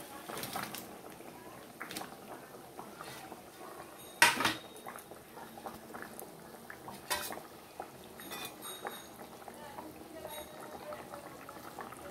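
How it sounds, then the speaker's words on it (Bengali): Fish curry broth with potatoes boils in a pot, a faint continuous bubbling under soft kitchen clatter, with one sharp clink of utensils midway and occasional speech. "দেখো আমার ঝোলটা ফুটে গেছে"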